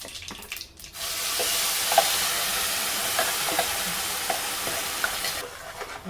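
A puree of ginger, garlic, onion and tomato hits hot oil in a pan and sets off a loud, sustained sizzle with scraping stirs. The sizzle dies away briefly near the end and there is no speech.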